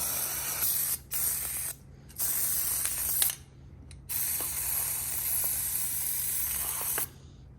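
Grease sprays from an aerosol can onto ATV engine parts in several loud hissing bursts of varying length, separated by short pauses, with faint clicks of mechanical handling between them.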